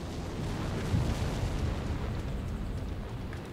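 An explosion in the video game Arma II rolls out as a deep, sustained rumble with a heavier swell near the start, then fades into a long, even roar without any talk.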